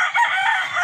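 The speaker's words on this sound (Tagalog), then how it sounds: "Iyan ang manok." A gamefowl rooster at a game farm crows loudly and close, a single strained, raspy call that fills under a second with no speech over it.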